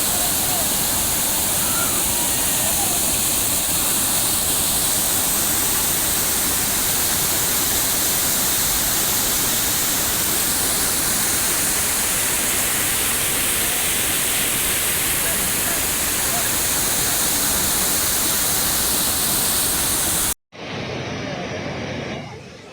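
Water rushes hard at Balidiha Dam, a dense, roaring wash of noise that holds steady and loud for about twenty seconds before cutting abruptly to a quieter stretch.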